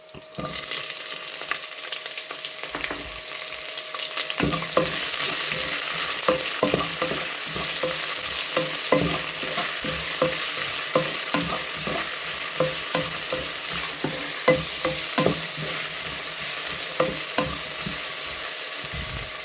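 Sliced large onion and crushed garlic sauté in a pan for a Kerala-style potato stir-fry, a steady close sizzle running throughout with repeated scraping stirs of a spatula at an uneven rhythm.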